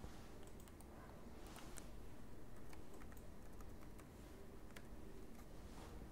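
Login credentials are typed on a computer keyboard as a continuous stream of soft, rapid key clicks over a faint background hum.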